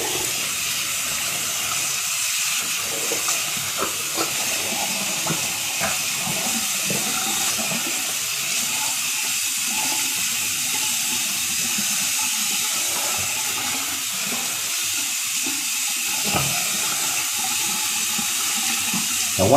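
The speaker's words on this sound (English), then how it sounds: "let me rinse up, and excuse the sound of the water here." Water runs steadily from a bathroom tap into a sink as someone rinses their face after a wet shave. The broad, continuous hiss and splash is close and loud and lasts the whole stretch with no talk.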